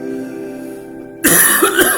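A sudden burst of harsh coughing after a quiet, humming stretch: a couple of loud, close coughs in quick succession.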